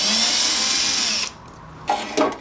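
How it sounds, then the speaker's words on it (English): Screws driven out with a power drill while mounting a motor on a small Hollander beater for papermaking, a steady whirring drill run that cuts off, followed by a couple of short bursts. "Step 1 for putting the motor on is to take these screws out."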